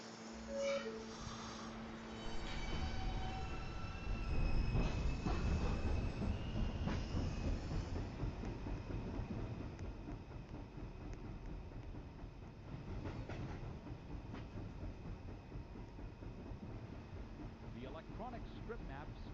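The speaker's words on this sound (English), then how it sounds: "This is a Potatoburg bound Q Express train." Subway train running in a video game, with rumbling wheels on rails, clattering and occasional squeals, a steady moderate roar under a recorded announcement voice, rising briefly as the train gathers speed, then settling.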